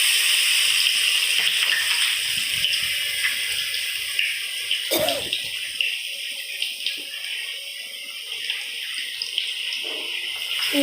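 Vadas frying in hot oil in a kadai, a steady loud hissing sizzle with a few sharper bubbling bursts, close and continuous with no talking.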